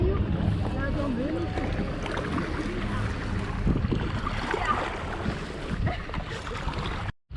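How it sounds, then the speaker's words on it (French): Steady wind buffeting the microphone outdoors near the canals of Sète, kayaking on the Mediterranean, a continuous low rumble throughout, with faint voices underneath before it cuts off at the end. "il y a un peu de vent"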